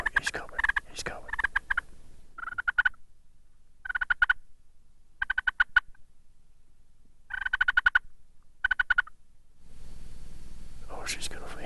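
Wild turkey gobbler gobbles in repeated bursts, sharp rattling calls separated by short pauses, fairly clear and close in an outdoor hunting setting, with soft whispered talk between calls.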